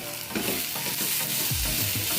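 Spiced canned tuna curry masala with ginger-garlic paste sizzles in a pan, a steady close crackle of frying broken by a few scraping stirs, with no voices heard.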